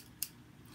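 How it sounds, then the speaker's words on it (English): Small, very sharp scissors give a single crisp snip, close and isolated against a quiet background. "Scissors. These are super sharp and little."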